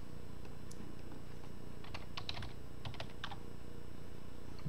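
Password typed on a computer keyboard: a quick run of soft, close clicks and taps in small clusters over a faint background hum, with no voices.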